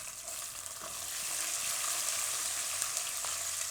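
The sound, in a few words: green and red chillies added to hot pan, frying sizzle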